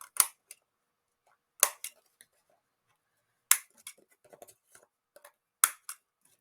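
Crisp, separate snips of a corner-rounding punch or scissors cutting red glitter card and green mirror card, four main clicks spaced roughly two seconds apart with faint rustling of the card between them, close and alone.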